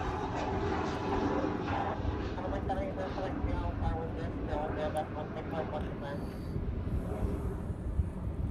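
A heavy jet airliner roars past in the open air in Hawaii, a loud continuous engine rumble that holds steady throughout, with people talking over it.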